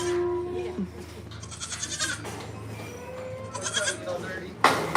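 Goats bleat at a livestock auction with horses, giving several wavering cries at varied pitches, some near and loud, over crowd murmur and talk in a busy barn.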